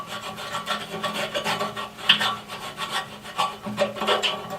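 A chainsaw sharpening file rasps back and forth in quick repeated strokes inside rusty backhoe bucket tooth holes, a gritty scraping rhythm close to the microphone.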